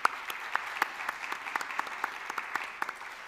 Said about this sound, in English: please, another round of applause for His Highness and His Excellencies for joining us today